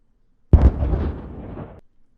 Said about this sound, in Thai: ทันใดนั้น เสียงระเบิดก็ดังขึ้น